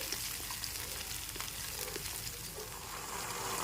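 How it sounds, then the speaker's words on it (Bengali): Ginger spice paste thinned with a little water fries and is stirred in a pan, giving a steady, soft, even sizzle with faint scraping and no talk. "এবার একটু নেড়ে চেড়ে মশলাটা কষিয়ে নিতে হবে"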